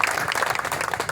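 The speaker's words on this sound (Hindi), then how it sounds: "जोरदार ताली है निखिल जी ने" Applause at a municipal council meeting, a brief burst of many hands clapping close and fairly loud, with a faint voice underneath.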